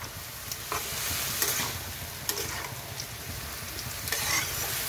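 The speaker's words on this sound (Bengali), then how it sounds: "নাড়িয়ে চাড়িয়ে" Ash gourd sizzles and crackles steadily as it fries in a pan, with occasional scraping clinks of a spoon stirring it, close and continuous with no talking.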